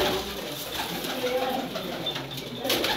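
Teddy pigeons coo continuously, close by, a soft rolling call repeating over a busy background of other birds and faint ambient noise.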